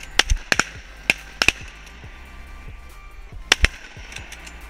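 Shotguns firing at mallard ducks on a hunt by an ice-rimmed warm spring, a ragged volley of sharp, loud blasts in two clusters with short echoing tails, near and without talk.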